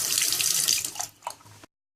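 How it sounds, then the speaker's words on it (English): A water tap runs and splashes into a sink at close range, loud and steady, then is shut off, ending in silence. "This particular tap seems to splash around a fair bit."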